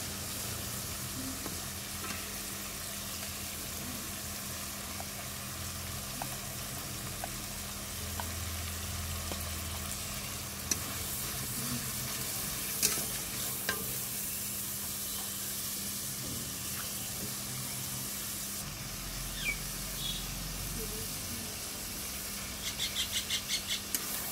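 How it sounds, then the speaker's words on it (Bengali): Onion, garlic, ginger and chili paste stir-fried in oil for a mutton curry, a long steady close sizzle with occasional scrapes and taps of a spoon against the pan. "মাংস রান্নার জন্য আমি এখানে তেলে পেঁয়াজ বাটা, রসুন বাটা, আদা বাটা আর একটু মরিচ বাটা দিয়ে কষিয়ে নিচ্ছি।"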